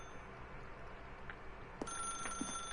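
A telephone rings in a video game: an electronic bell-like trill starts suddenly partway through and keeps sounding steadily to the end, fairly quiet over a low room-tone background with no talking.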